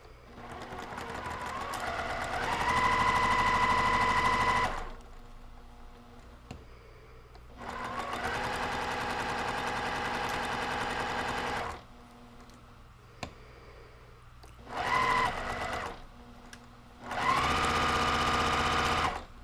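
A domestic sewing machine stitches quilt block pieces in four separate runs, a steady fast whirring hum that starts and stops with quiet pauses between bursts, close and alone without talk.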